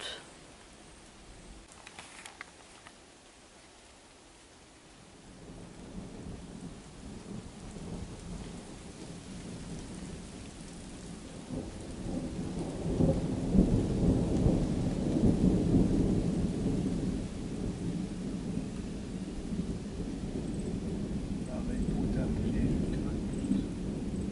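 Rain falling steadily with deep rolls of thunder that swell after a quieter start and rumble on, growing heavier toward the end.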